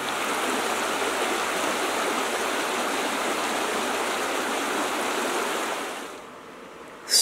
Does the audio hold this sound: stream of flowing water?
yes